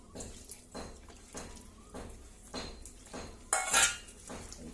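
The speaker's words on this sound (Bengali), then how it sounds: "ওদের মাংসগুলো একদম ছোট ছোট করে কেটে দিই" Cooked meat being cut into small pieces for cats, a regular series of soft knife-on-plate taps and clinks close by, with one louder scrape near the end.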